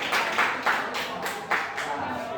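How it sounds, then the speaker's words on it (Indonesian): Classroom audience clapping during a teacher-training economics lesson at a university, a brief burst of several quick overlapping claps with faint voices underneath. "Beri tepuk tangan untuk pemotor."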